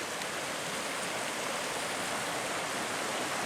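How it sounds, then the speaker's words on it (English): Creek flowing along a wooded trail, a steady broadband rush of running water, even and continuous without breaks or voices. "Look at that creek."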